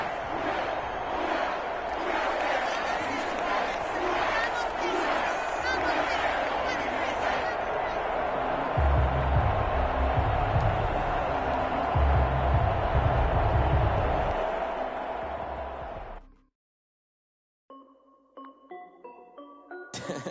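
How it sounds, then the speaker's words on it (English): Home crowd applause and cheering in a basketball video game on PS4, a dense, loud, steady roar for about sixteen seconds that then cuts off, followed by a few short tonal sounds. "And the home crowd applauding."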